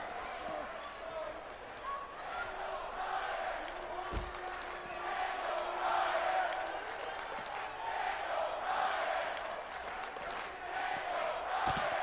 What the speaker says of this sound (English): Daniel Bryan chants lead around Daniel.